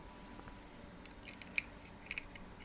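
A few small, sharp plastic clicks as lightsaber hilt parts snap together, faint and close, with near-silence between them.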